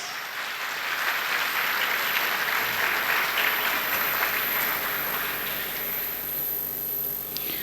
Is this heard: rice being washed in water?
no